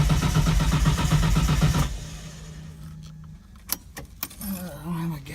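A Datsun 240Z with an RB20DET engine cranks repeatedly, a loud rhythmic churning of the starter for about two seconds, then stops, followed by faint clicks and shuffling nearby.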